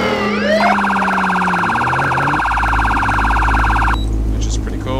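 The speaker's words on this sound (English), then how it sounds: "we've got the ear rape of the siren" A loud electronic police siren wails and pulses steadily, with a rising tone at the start and a deep rumble underneath near the end.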